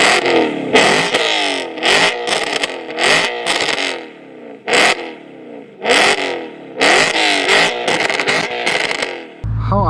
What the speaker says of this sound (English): Gotta stick it in there, and then we're able to start that V8 up